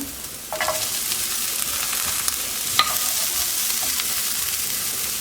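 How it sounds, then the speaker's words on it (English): Half a cup of onion sizzles in hot oil in a pan for an urad dal tadka, a steady close hiss with a few sharp scrapes of a spoon stirring, and no voices. "Now I will add half a cup of onion."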